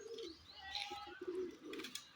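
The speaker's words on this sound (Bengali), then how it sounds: "দুপুরের পায়রা" Pigeons cooing close by, Madras pigeons kept in a loft, with soft throaty coos and a few chirps repeating across a couple of seconds, no talking.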